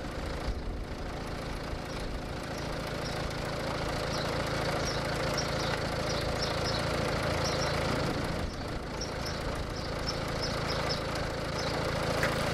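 A MINI R56 diesel engine idles roughly and steadily throughout, a continuous low rumble with uneven knocking, close by and fairly loud, with a brief dip near the end.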